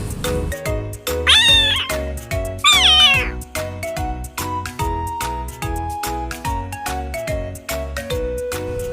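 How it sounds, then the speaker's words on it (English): A domestic cat gives two rising, wavering meows over steady, rhythmic background music that carries on throughout. "Cat."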